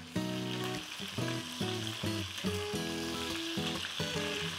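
Chicken browns in a hot pan with a steady, close sizzle of frying. Loud rhythmic music with sustained tones plays over it throughout.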